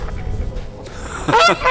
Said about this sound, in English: African or Chinese geese are the best breed for being a guard goose. That's not only because they're the loudest geese around